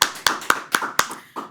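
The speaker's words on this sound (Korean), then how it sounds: "간 걸 믿으시는 분은 하나님께 박수 영광 드리겠습니다." Sharp hand claps ring out during a church service, six crisp, close beats in a quick, slightly uneven rhythm, with no voices over them.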